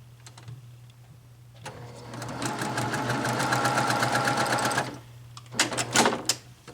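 A sewing machine stitches a quilted table topper along a marked line, running in a steady rapid buzz for about three seconds, then stopping, with light handling clicks before and after against a low background hum.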